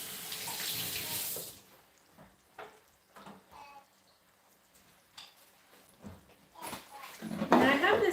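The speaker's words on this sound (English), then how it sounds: "Rinse it." A kitchen tap runs while a vegetable is rinsed beneath it, a steady close hiss of water at the start and again near the end, with a person talking and a dog in between.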